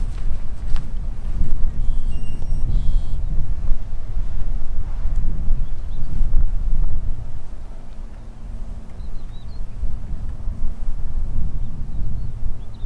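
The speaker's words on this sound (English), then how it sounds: "This wind. Crosswind, yeah." Strong crosswind buffeting the microphone on a golf course, a loud continuous low rumble with gusting swells and a brief lull midway.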